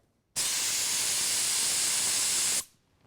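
An Eastwood Concours Pro paint spray gun gives a single loud, sustained hiss of spraying that starts abruptly, holds steady for about two seconds, and cuts off sharply.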